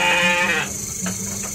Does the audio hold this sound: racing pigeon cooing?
no